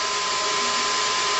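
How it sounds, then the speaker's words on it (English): A Semitool 270S spin rinse dryer runs with a steady, loud, even whir and airy hiss, a constant mechanical drone with a faint tonal hum and no talking. "This is for a 270S spin rinse dryer."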